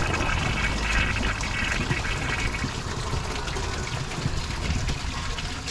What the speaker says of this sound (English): Looks like we need another flush.